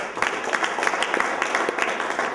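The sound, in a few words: audience applause at a press conference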